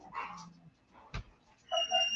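Indoor dog whimpering, thin high whines in short bursts with a sharp thump in the middle and a beeping electronic tone at the end, close and fairly quiet.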